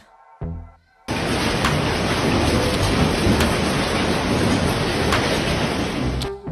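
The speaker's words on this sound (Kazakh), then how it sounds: "Көп қабатты ғимараттардың ішінде бұршақтың дауысы былай естілді" After a brief thud and a pause, a dense, roaring clatter of hail hammers a multi-storey building nonstop, heard from inside, loud and steady for several seconds.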